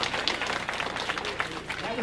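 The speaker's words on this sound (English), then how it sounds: "So I would like to give another round of applause." Another round of applause from the audience at a women's empowerment celebration, a dense, steady clapping from a crowd that carries on throughout, with some voices mixed in underneath.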